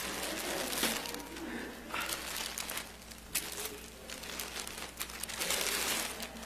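A plastic bag is opened during a church morning service, producing continuous close crinkling and rustling with scattered sharper crackles over a faint room hum.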